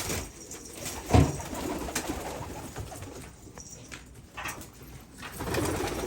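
Pigeons in a coop coo softly and repeatedly at close range, with a brief flutter or knock partway through and faint background noise.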